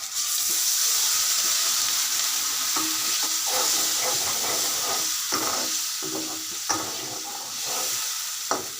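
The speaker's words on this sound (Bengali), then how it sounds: "এখন মশলাটি পুড়ে যাচ্ছে, আমি একটু পানি দিয়ে দিব।" Water poured into a hot pan where spice paste with cumin paste is scorching while salted hilsa cooks, giving a steady loud hiss and sizzle with intermittent stirring scrapes, no voices.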